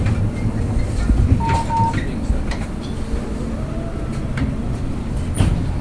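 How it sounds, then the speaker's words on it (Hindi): An Amsterdam tram rolls along with a low steady rumble and faint rail clatter, heard from inside the car, with a brief bell-like tone and soft background voices. "तो ये थी मेरी ट्रैम जहाँ मैंने ली थोड़ी देर के लिए"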